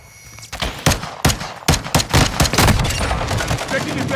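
Rapid machine-gun fire from Call of Duty: Modern Warfare 2 rattles out in loud, closely spaced shots that quickly build into a sustained barrage.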